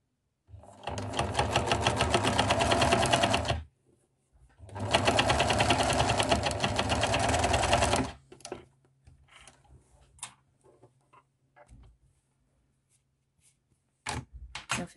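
Sewing machine stitching a 1 cm seam allowance, two loud close bursts of rapid rhythmic needle chatter separated by a short pause, followed by quieter handling clicks and near silence.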